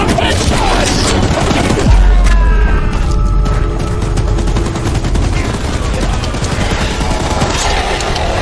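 Sustained gunfire in the Choo-Choo Charles video game, a dense continuous barrage of loud shots with booming impacts mixed into a busy game soundscape, no talking.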